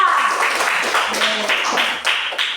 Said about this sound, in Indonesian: tepuk tangan dulu untuk Aska